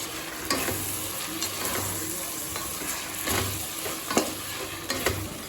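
Half a kilo of mutton fries with turmeric, chili powder and salt for a Tamil mutton kulambu, sizzling steadily while a spoon scrapes and stirs the pan in repeated strokes, close and clear with no talk.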